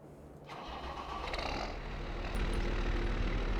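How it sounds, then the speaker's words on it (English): Tractor engine running on a farm, a steady low grunty rumble that starts up after a brief quieter moment and builds slightly louder, heard alone without talk. "And I love the sound on this tractor."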